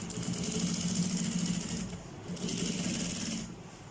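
A sewing machine stitches crochet bag pieces in two rapid, steady bursts of close mechanical chatter, separated by a short pause.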